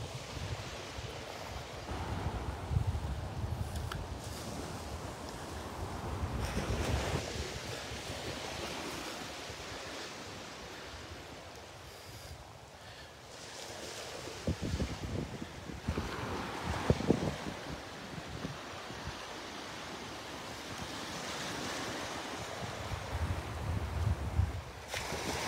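Waves wash onto the beach at Delnor-Wiggins while wind buffets the microphone, surf surging in repeated swells that rise and fall in loudness over the span.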